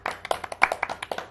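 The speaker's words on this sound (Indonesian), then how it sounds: "Tepuk tangan dong." Quick, slightly uneven clapping from a few hands during a software testing lesson, a brisk run of light claps with a faint roomy hum beneath, fairly soft.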